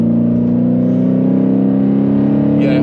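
Dodge Challenger 392 R/T Scat Pack with a cat-back exhaust, its V8 held at a steady, loud, droning rev that rises slightly in pitch, close and continuous with no talk over it.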